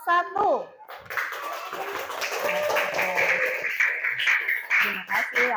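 A classroom group claps together for another group of students, a sustained round of hand clapping with children's voices and talk at the start and end.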